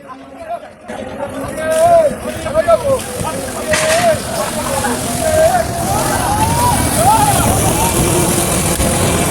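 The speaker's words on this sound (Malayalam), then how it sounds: "ബോട്ട് വെള്ളത്തിലോട്ട് ഇറങ്ങാനുള്ള സമയമായി. അങ്ങനെ വെള്ളത്തിലോട്ട് ഇറക്കുകയാണ്." A new fishing boat is launched into the water at a beach, with a continuous rumble of motor and water under lively crowd chatter and shouted voices throughout.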